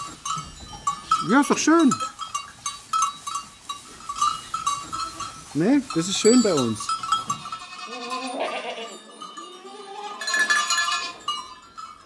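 Several goats bleat with wavering, quavering cries, close by, amid cowbell clinks and people chatting casually in the background.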